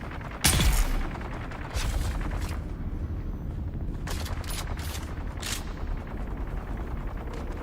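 Gunfire in Dune: Awakening opens with a loud blast, then continues as sustained rattling bursts with sharper cracks in between, steady and fairly close, with no one speaking.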